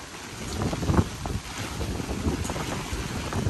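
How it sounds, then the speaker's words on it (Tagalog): Strong wind buffets the microphone in a steady roar with gusty low rumbles, over an open-water backdrop during heavy rain; no voices. "Grabe, lakas ng hangin dito."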